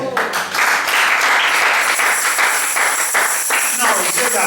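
A church congregation applauds and cheers in praise of the Lord, a loud, sustained wash of clapping and voices filling the hall throughout.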